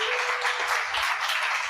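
A church congregation applauds and cheers, a dense wash of clapping heard from a distance, steady and fairly faint for a brief moment.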